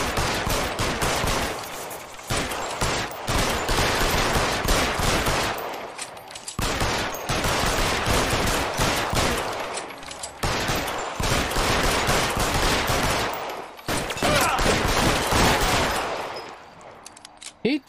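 Sustained heavy gunfire from a shootout in the video game L.A. Noire, dense bursts of automatic and rapid shots filling the whole stretch with only brief pauses between volleys, loud and close.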